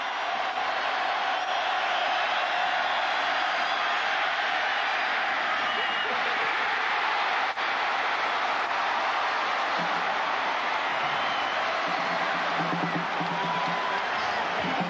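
A stadium crowd at a Penn State vs Pittsburgh college football game roars loudly and steadily in a wide, continuous wash of cheering, with a broadcast commentator talking at times.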